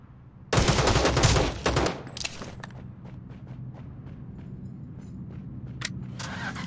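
Rapid gunfire from a weapon in the battle royale game Rules of Survival, a loud dense burst in the opening seconds followed by quieter scattered shots and clicks over a low engine rumble.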